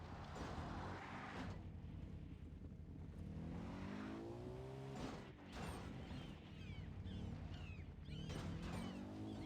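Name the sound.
car racing in video game Far Cry 3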